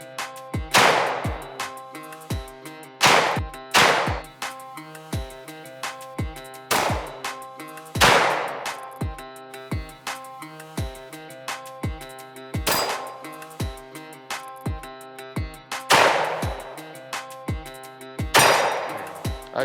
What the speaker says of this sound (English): Yeah, I was shooting low.